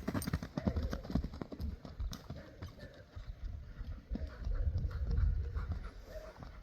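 Hooves of a young horse clip-clop at a horse market, a steady run of close, irregular knocks against a busy outdoor rumble with faint voices in the background.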